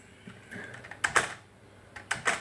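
Typing on a Dell SK-8135 keyboard: a few scattered soft key clicks, then two quick bursts of sharper keystrokes, close and fairly quiet, with no speech.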